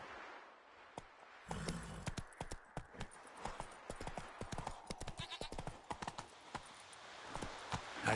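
Roach the horse's hooves clip-clop in a quick, steady rhythm in The Witcher 3, fairly loud and close and heard alone.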